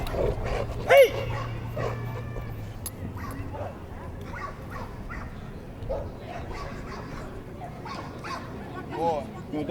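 A protection dog barks, yips and whimpers during aggression stimulation in a training demonstration, with short sharp barks and high whines scattered across the clip amid background handler voices and movement.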